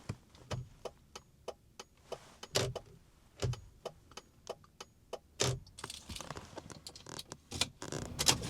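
Turn signal relay of a BMW E53 X5 ticking steadily inside the cabin, a regular series of crisp clicks at roughly a half-second rhythm, with some rustling and handling noise toward the end and no talking.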